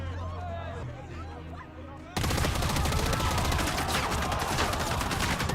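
An execution by gunfire in a zombie drama series, starting with murmured voices and background noise, then a sudden loud fusillade of continuous automatic gunfire that lasts to the end.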